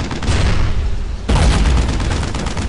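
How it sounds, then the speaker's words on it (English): Suppressing gunfire in the video game Brothers in Arms: Road to Hill 30, a dense continuous roar of rifle and machine-gun fire with a sharp louder burst midway, close and loud, with no talk. "Suppressing fire!"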